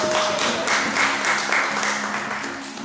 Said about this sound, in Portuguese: Aplauda o nome do Senhor, glória a Deus.